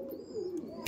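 Laldom pigeons cooing in a loft, a steady low warbling call rising and falling for under a second, fairly close, with no talking.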